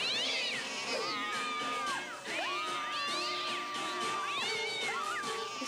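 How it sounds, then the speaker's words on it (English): A store cat kept to deter mice and rats lets out a string of loud, drawn-out meows and yowls, several rising and falling cries in close succession. "She has no idea that she's being stalked by a cat that's there to keep out mice and rats."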